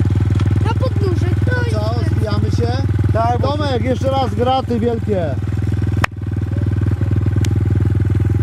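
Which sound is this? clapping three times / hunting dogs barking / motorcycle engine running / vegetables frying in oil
motorcycle engine running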